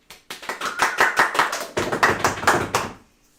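A studio audience claps, a sustained burst of rhythmic applause that swells briefly, holds steady for about three seconds, then stops abruptly.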